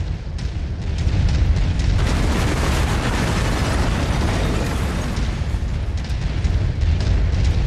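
A mech blowing apart in MechWarrior 5: Mercenaries, a loud sustained explosive roar with rumbling booms and crackling bursts that swell after a couple of seconds and keep going.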